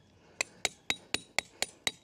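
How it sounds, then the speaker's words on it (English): A tent stake for a Snow Peak Alpha Breeze tent is hammered into the ground with seven sharp, evenly spaced metallic strikes, close and clear, with no talking. "and hammer it down."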